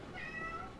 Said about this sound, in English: And that's my cat meowing in the background.